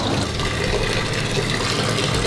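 Water siphoned out of a saltwater aquarium gushes and trickles steadily at close range, a continuous rushing flow with no pauses.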